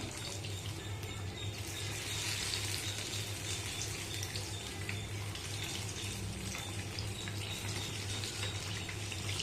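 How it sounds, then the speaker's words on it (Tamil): Banana appam frying in hot oil on medium flame, a continuous close bubbling sizzle that holds steady throughout with no talk. "இப்போ ஒரு சைடு வந்து நல்லா பொறிஞ்சிட்டு இந்த டைமில் பக்கத்தை திருப்பி போடலாம்"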